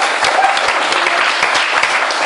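Steady, dense applause from a large audience, loud and continuous throughout with no pauses, close enough that individual claps blur into a full wash of sound.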